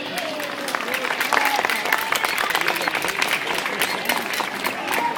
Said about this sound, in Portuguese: Vamos aplaudir o seu Loca, gente